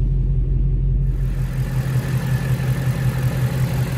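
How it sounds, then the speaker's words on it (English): A 2016 Shelby GT350 engine idles steadily under the open hood, a deep, even low rumble with no revving, heard close and continuous. "Under the hood, you can hear that the engine sounds perfect."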